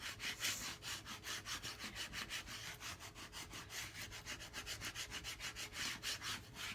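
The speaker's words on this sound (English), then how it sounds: "And then we're going to use the little squeegee tool again." A small squeegee is pushed over transfer tape on a galvanized metal farmhouse sign, making close, steady, rapid back-and-forth scraping strokes that continue throughout with no talking.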